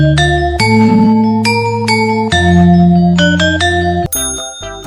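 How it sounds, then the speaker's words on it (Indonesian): A Central Javanese gamelan ensemble of traditional percussion instruments, bright sustained metallic tones struck in a steady sequence with a low resonant drone underneath, loud and close with no voices. "Gamelan Jawa Tengah adalah ansambel musik tradisional yang didominasi instrumen perkusi"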